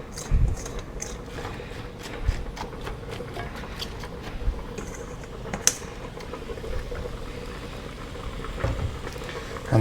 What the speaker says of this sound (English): And that will start to simmer.